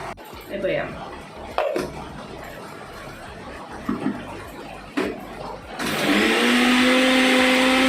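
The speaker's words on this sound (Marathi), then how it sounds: "हे डायरेक्ट मिक्सराक लावून" A kitchen mixer grinder whirs loudly for the last couple of seconds, grinding without added water, after quieter clattering and background noise.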